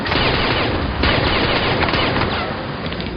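Sustained, dense gunfire fills a firefight in the action video game The Bourne Conspiracy, with overlapping rapid bursts and booms loud and continuous throughout, no pause in the barrage.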